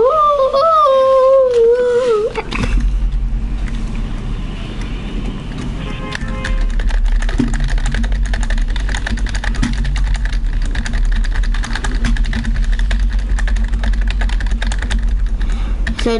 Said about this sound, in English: so this is what my F sound like on my keyboard